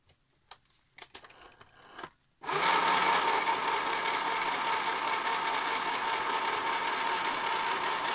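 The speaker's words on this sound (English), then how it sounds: "So first I'm gonna sew on that tuck" A sewing machine stitches a tuck along the bottom of a recycled book of inserts. After about two seconds of faint rustling and handling, its close, loud, steady whirring starts and runs without a break to the end, with no talk.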